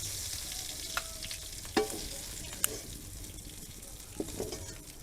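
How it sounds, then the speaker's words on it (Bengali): Prawns sizzle lightly in oil in a kadai-style wok, cooking for a green-jackfruit prawn dish. The frying hiss is steady and close, broken by a few sharp clinks of a stirring utensil, with no talking. "চিংড়ি মাছটা হালকা করে ভেজে নিয়েছি এবার তুলে নেব"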